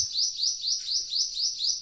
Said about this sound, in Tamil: குட்டி குட்டி குருவிலாம் வேப்ப மரத்துல உட்காந்துட்டு பண்ற அழுத்திய சேட்டைகள்லாம் அதிகம்